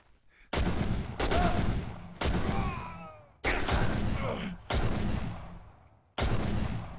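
Gunfire in the video game F.E.A.R. 2, five heavy shots spaced a second or so apart, each loud, close and followed by a long decaying ring and debris-like rattle; no talking.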